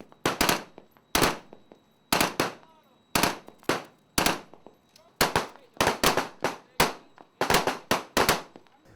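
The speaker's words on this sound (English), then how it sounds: "that's the gun on the Athabaskan" A naval gun aboard the Canadian warship HMCS Athabaskan fires in a rapid series of sharp, loud reports, around a dozen bursts in uneven pairs and singles with short decays between them.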